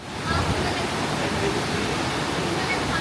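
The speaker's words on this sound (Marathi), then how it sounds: "हे बघा प्रा पाण्याचा प्रवाह बघा तुम्ही खूपच जोरात आणि ओसांडून वाहतो आहे" Loud, steady rush of fast-flowing water, a dense roaring wash that fills the whole clip without pause; a monsoon-swollen stream overflowing near Vardayni temple, Jawalgaon, Mulshi, near Pune.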